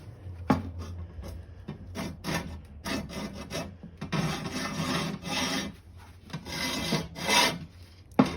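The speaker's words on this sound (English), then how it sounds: "The cheapest of all options for cutting angle iron is a hacksaw." A hacksaw rasps back and forth through steel angle iron in a run of close, rough strokes, irregular at first and then settling into a steady sawing rhythm, with no voices.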